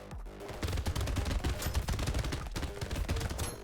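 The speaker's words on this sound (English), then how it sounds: "Minigun's just great. I just love the minigun." A minigun in the video game Brotato fires a long, continuous stream of rapid shots that rattle loudly and evenly for several seconds with only a brief gap.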